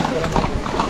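Horse hooves clip-clop along a trail in Matheran, Maharashtra, in a steady walking rhythm, close by and partly under continuous chatter from people talking nearby.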